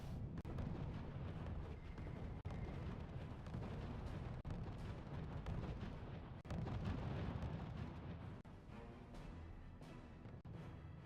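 Light bombers strafing in the strategy video game RUSE: dense, continuous rumbling gunfire and explosion bursts with deep booms, loud and unbroken for about eleven seconds with no talking.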